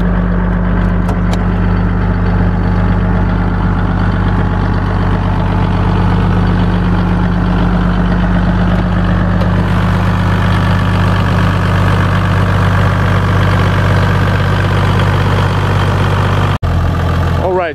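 A Toyota Land Cruiser HDJ81V's 4.2-litre 1HD-T turbo diesel idles up close, a loud steady low rumble with constant mechanical clatter, holding an even level throughout.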